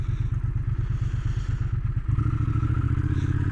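A Triumph Speed Twin 1200 RS parallel-twin motorcycle rides along, its engine thrumming in a steady low pulse that deepens and grows louder as the throttle opens partway through, with faint wind and mechanical clatter around it.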